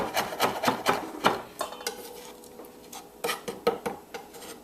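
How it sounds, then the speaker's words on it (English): Raw oysters being roughly chopped with a knife on a board, giving a close run of quick scraping, rasping strokes in an uneven rhythm with no talk. "all you want to do now is to give that oyster a rough chop"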